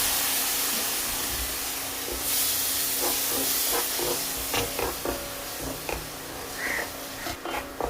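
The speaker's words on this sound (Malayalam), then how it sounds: "അതിലേക്ക് വിനാഗിരി ഒഴിച്ചു കൊടുക്കുക." Vinegar, about a quarter cup, is poured into hot roasted spice powders for a dried shrimp pickle, bursting into a loud close hissing sizzle that gradually settles into sputtering crackles.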